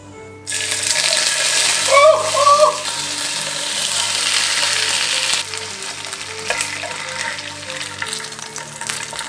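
Eel drops into hot cooking oil and bursts into loud sizzling frying after a moment of quiet, with clattering and stirring early on. The crackle then settles to a steady, softer fry, and a voice is briefly heard.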